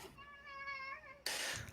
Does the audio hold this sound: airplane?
no